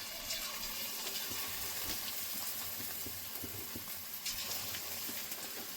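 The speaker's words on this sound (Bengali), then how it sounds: "এরকম করে চিকেনগুলো আমি ভেজে নেব।" Chicken pieces fry in hot refined oil in a wok, giving a soft, continuous sizzle with faint crackles and occasional stirring bumps, quiet and steady without speech.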